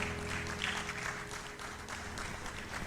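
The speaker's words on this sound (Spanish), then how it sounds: "¿Le puedes dar un aplauso al Rey de Reyes, Señor de Señores?" A church congregation applauds in a continuous wash of clapping, fairly faint and even throughout, with no voices standing out.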